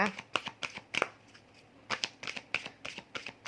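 Oracle cards are shuffled by hand in repeated crisp riffling bursts with short pauses between, close and fairly quiet, with a voice faintly present.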